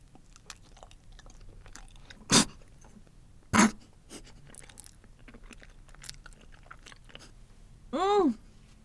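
Someone chews a bite of banana spread with Vegemite close to the microphone, with soft mouth sounds, a couple of sharper wet smacks and a short voiced sound near the end.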